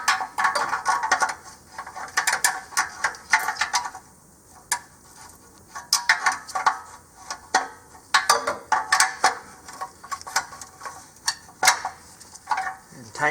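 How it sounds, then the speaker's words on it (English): A wrench works on the downstream bank 1 sensor 2 oxygen sensor of a 2017 Nissan Rogue Sport, giving repeated sharp metallic clicks and ratcheting ticks in uneven bursts, close and fairly loud with short pauses between. "Now you'll get your wrench in here."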